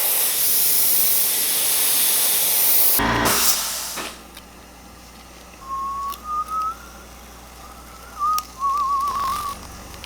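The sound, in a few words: airbrush spraying gold paint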